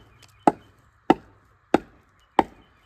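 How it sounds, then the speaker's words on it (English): Four sharp, evenly spaced woody cracks from a splitting tool striking solid oak firewood rounds outdoors, each a loud close impact that dies away fast, with quiet pauses between. "I'm gonna see if I can pop them in half."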